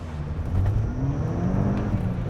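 A modified Mk5 Golf GTI launches hard from about 3,000 RPM, its engine note loud and close with rising, overlapping harmonic sweeps as it accelerates through the short clip.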